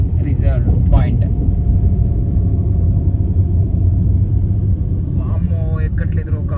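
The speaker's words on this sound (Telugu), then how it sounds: "వామ్మో ఎక్కట్లేదు కారు." A car labours up a steep hill road near Srisailam, its engine a low, heavy, steady rumble. People talk briefly over it at the start and again near the end.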